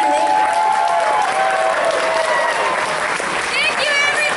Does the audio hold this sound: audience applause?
yes